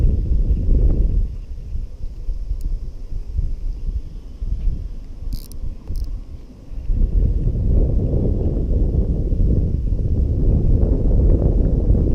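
Wind gusts across an outdoor microphone while bass fishing in summer in Florida, a steady low rumble that eases briefly midway and then returns strong, with no talking.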